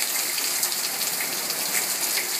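Heavy rain pours down in a dense, steady hiss during a rainstorm on the coast of Mexico, loud and close with no voices.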